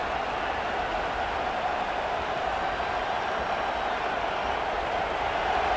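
A college football stadium crowd at Syracuse versus Nebraska roars as a steady, dense wall of noise, loud and continuous with no breaks throughout.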